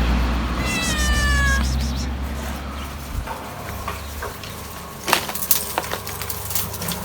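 A cat gives one clear, drawn-out meow close by, followed by scattered knocks and clatter of objects.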